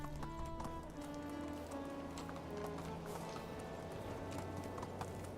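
Horse hooves clip-clop in a quick, steady rhythm as a rider gallops across a medieval farming game world, the hoofbeats fairly close over a faint background bed, with no voices.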